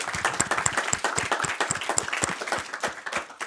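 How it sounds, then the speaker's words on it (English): A room of people applauds hackathon participants for their overnight work, with dense, steady clapping at moderate level throughout and no talking over it. "So just round of applause for you guys for working so hard"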